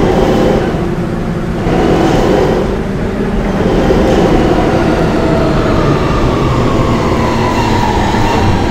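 An R160 D subway train in the Roblox game rumbles steadily along the track, a loud continuous roar with a slight dip early on and a faint rising whine later, no voices.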